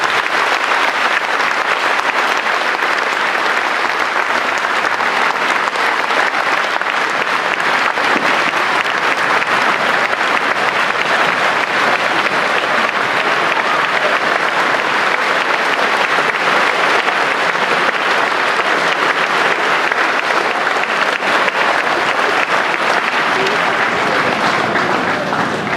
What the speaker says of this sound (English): I'd like to give her one quick round of applause again